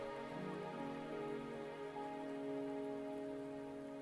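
Steady rain patters and hisses throughout a Wuthering Waves game scene, mixed with soft sustained musical tones from the game, fairly quiet and without speech.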